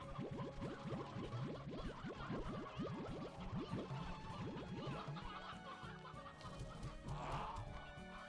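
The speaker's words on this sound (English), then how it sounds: "Oh, we have a lot of chickens." A flock of chickens in the Slime Rancher 2 video game clucks in rapid, bouncy bursts, with many quick chirping calls layered over soft game ambience and a brief whooshing effect near the end.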